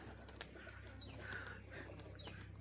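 Crested fancy pigeons in Murshidabad, with faint chirps and coo-like calls over a low steady background hum and a brief sharp click early on; distant and quiet, no speech.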